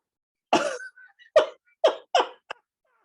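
Harsh coughing fit after snorting bourbon up the nose during a tasting: five sharp coughs in quick irregular succession, close and loud, with a short wheezy gasp between the first two.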